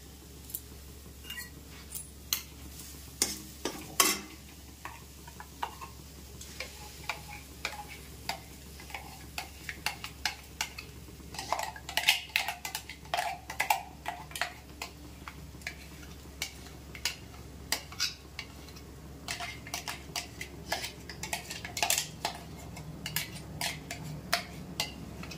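Spinach paste is stirred into cooked masala in a pan, with scattered spoon scrapes and clicks over a faint, low sizzle that stays quiet throughout.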